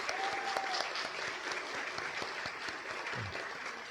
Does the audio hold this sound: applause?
yes